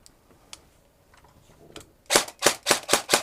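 An airsoft gun on the bench fires a quick burst of five or six sharp, loud reports at the end, after a stretch of faint handling clicks and rattles.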